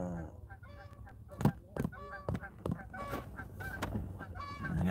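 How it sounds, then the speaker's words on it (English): Several geese honk in loud, ragged bursts, a few calls overlapping as they pass close overhead, with a low rumble of background noise underneath. "I got two geese flying over my head."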